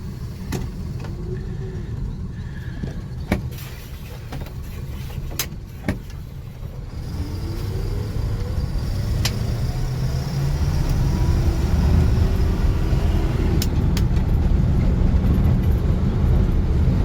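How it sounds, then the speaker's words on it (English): Carburetted car engine running slightly rough while driving in third gear, suffering from suspected vapor lock; a steady low engine drone with road noise rises gradually in loudness, with a few faint clicks and rattles over it. "Needs a tune, I think. The carby's running a bit off."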